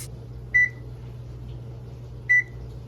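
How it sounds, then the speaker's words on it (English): An oven being set to preheat in a home kitchen gives two short, clear electronic beeps about two seconds apart over a low background hum. "I think we should start by preheating the oven"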